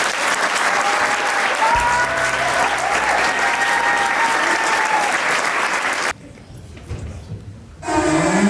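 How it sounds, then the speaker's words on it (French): Theatre audience applauding to welcome actors onto the stage at a school drama performance, a dense, loud roar of clapping that runs steadily for about six seconds, then drops away as a voice begins onstage. "vous pouvez les accueillir sous un tonnerre d'applaudissements"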